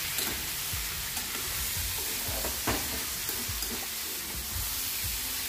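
Round eggplant slices sizzling and frying steadily in a pan, a continuous crackling hiss with occasional stirring scrapes and no talk.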